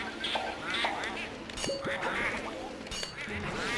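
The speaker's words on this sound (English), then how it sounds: "Who's making these weird quacking noises?" Shy Guy enemies in the Luigi's Mansion video game make nasal quacking calls, several short quacks in quick succession at moderate loudness over a busy, steady game soundtrack.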